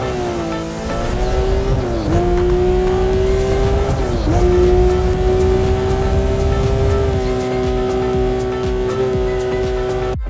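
Car engine in Need for Speed Most Wanted during a nitro boost, a loud sustained roar with rising and dipping pitch at gear changes, steady and close, with brief squealing tire noise.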